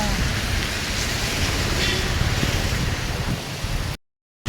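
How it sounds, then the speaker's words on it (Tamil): Heavy rain falling in the hills at Kattappana, Kerala, a steady dense broadband wash that stays close and loud throughout, then cuts off abruptly near the end. "பேக்ரவுண்டில் மழை தெரியுது மக்களே. மழை கனமாக வர ஆரம்பிச்சிருச்சுங்க."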